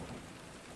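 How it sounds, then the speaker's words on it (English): Rain falls on the cobblestones of a Manhattan street as a faint, steady, dense hiss of patter with no voices. "The rain is falling on the cobblestones of Manhattan."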